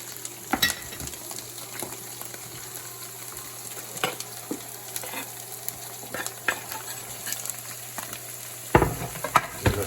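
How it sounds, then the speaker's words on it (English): Celery frying in a hot pot, a steady crackling sizzle lasting throughout, broken by scattered spoon scrapes and a louder burst of clatter near the end; no talking. "Let that get hot, and then we'll fry up the celery"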